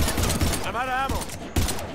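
Rapid gunfire in the Mass Effect 3 video game against husks, bursts of sharp shots at the start and end around a brief shouted voice, loud and close.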